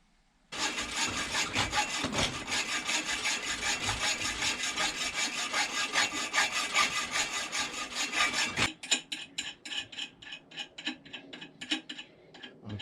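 A saw cuts through a metal bolt in fast, steady back-and-forth strokes, then slows into slower, separate rasping strokes near the end, close and fairly quiet with no talking.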